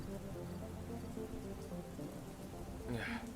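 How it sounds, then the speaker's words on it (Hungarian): Heavy rain pours down outdoors in a dense, steady hiss that fills the whole stretch, with a brief brighter splash near the end and no voices over it. "Szakad az eső!"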